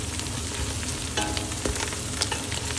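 Coriander leaves sizzle and fry in a pan while being stirred for South Indian chicken biryani, a steady close hiss broken by a few scraping spoon strokes, with no voices.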